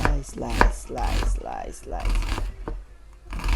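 Onion sliced with a knife for humba, several sharp chopping taps on a board near the microphone, mixed with a person talking throughout.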